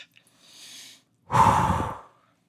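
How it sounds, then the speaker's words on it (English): Someone takes slow, deep breaths while sitting in an inflatable cold plunge. A soft inhale is followed by a longer, louder, forceful exhale. Both are close and isolated, with no talk. "Deep breaths."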